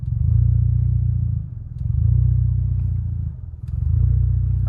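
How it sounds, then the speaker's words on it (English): The engine of a manual car rumbles loudly up close at low revs, and its steady drone sags twice as the clutch reaches the biting point before settling back each time. "You can hear the RPMs drop when I do that."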